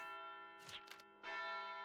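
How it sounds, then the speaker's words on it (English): Funeral chimes ring out in the Wild Arms Alter Code F game, sustained bell tones with a steady hum beneath, a couple of brighter strikes in the middle, then a louder ringing swell. "Those are funeral chimes."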